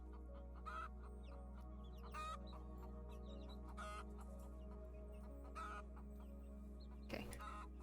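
Chickens clucking in a hen house in a game, several short clucks scattered over a steady low hum, with a brief louder squawk near the end.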